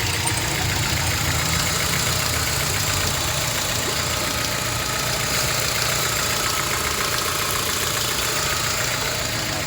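At a used-car market in Bishkek, a Mexican-market car engine idles steadily for nearly ten seconds, a loud, even, close mechanical drone with faint knocking and vibration and no voices over it.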